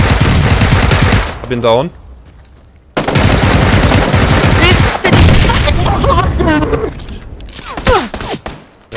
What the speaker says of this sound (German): Ja, jetzt schießt er noch immer.